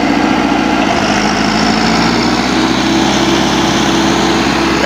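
A tractor engine runs steadily while pulling a normal, non-pressure planter through a maize field, a loud, continuous close-up drone with a low rhythmic throb and no voices.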